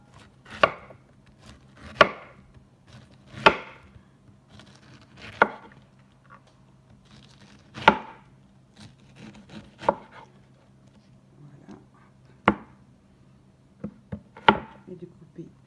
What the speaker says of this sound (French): une fois qu'on a épluché l'ananas, on va faire des rondelles comme ceci